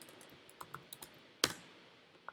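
A few sparse, soft clicks of computer keys as a word is typed into a browser during Spring Boot coding, with one sharper clack midway, quiet and close with no talking.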